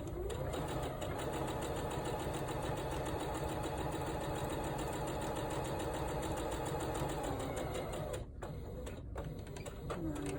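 Sewing machine stitching festive fabric bunting, running continuously with a fast, even mechanical chatter that breaks off briefly near the end, close up and steady.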